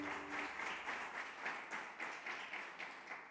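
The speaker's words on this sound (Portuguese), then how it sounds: "Demos uma salva de palmas a Jesus." A church congregation at a celebration service claps in a steady rhythmic beat, roughly three claps per second, close and even.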